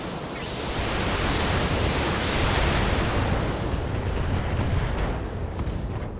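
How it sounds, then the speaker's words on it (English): A loud, sustained roaring blast of broadband noise, like a large explosion rumbling on for several seconds, as ammunition explodes in a mech in the BattleTech video game, with a few faint electronic beeps near the end. "Ammo explosion there."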